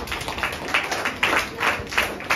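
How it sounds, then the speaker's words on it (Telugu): Audience applause at a children's Sunday school / VBS church gathering, honouring a student for top marks; steady mid-level clapping from a group, continuous with small swells, no words spoken. "చప్పట్లు కొట్టండి ఒకసారి"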